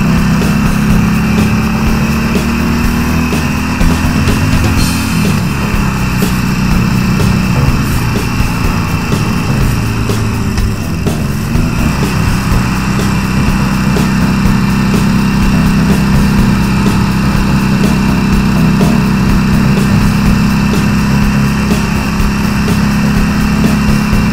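A cruiser motorcycle engine drones steadily while riding on an unfamiliar road, a loud, continuous hum with a slight dip in pitch midway and no talking.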